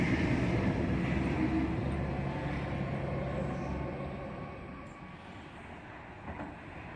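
An M set train runs past platform 1 at Turrella station in Sydney, a broad rumbling roar that is loudest at first and then fades steadily as it moves away, with no talk.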